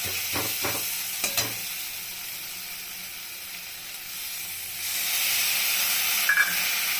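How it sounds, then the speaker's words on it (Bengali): Masala for a prawn, cauliflower and eggplant curry fries in a pan and is stirred with a splash of water, giving scraping strokes, then a steady close hiss and sizzle that swells after the water goes in. "মশলাটাকে একটু ভেজে নিলাম, নিয়ে এখন একটু জল দিয়ে মশলাটাকে ভালো করে কষাবো।"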